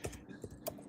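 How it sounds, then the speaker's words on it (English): A few quick keystrokes on a computer keyboard, distinct clacks at an uneven rhythm, faint against a quiet background. "Typing so loud."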